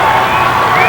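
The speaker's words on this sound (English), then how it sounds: "And the cheering you're hearing" Crowd cheering at a state high school wrestling tournament in Alaska, a loud, steady roar of many voices filling a gym without a break.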